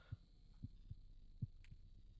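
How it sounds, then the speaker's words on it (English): A machine in The Cat Lady game gives off a low, muffled heartbeat, soft repeated thuds pulsing at an uneven pace beneath a faint steady hum. "Seems to be where the heartbeat's coming from."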